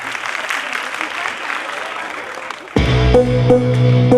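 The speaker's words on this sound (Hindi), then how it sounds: "हमारे पार्टिसिपेंट्स के लिए जोरदार तालियां हो जाए।" At a dance academy's annual function, an audience gives loud applause for participants, a dense, steady wash of clapping, followed by a sudden shift to amplified music with sustained tones.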